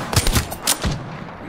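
Rapid bursts of automatic gunfire from a firefight in the video game Apex Legends, several sharp cracks in quick succession over the first second, then fading into a lingering game ambience.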